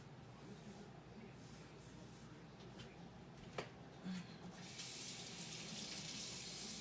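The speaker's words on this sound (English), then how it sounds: "Wash my hands real quick." Tap water runs into a kitchen sink as hands are washed, a steady broadband hiss that swells louder near the end after a few soft clicks and knocks.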